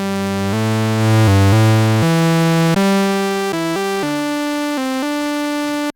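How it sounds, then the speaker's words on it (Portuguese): Oscillator 1 of the free TAL Noise Maker synth plugin plays a run of sustained, buzzy harmonic notes that step up and down in pitch, with a deep sub-bass layer under the first several notes; no talking. "então esse é o som do oscilador 1"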